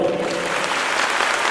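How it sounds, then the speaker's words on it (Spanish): Loud, sustained applause from a crowd greets Dr. Osvaldo Ávila, the regional director, at the opening of the 2016 Familias en Acción program, a dense, even wash of clapping with no voices over it. "para quien pido un fuerte aplauso"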